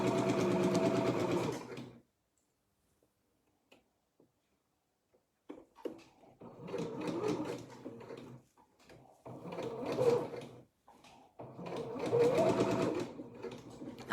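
Sewing machine stitching an ironing board cover in short bursts: a two-second run, a long pause with faint clicks, then several more rapid whirring runs, close and clear.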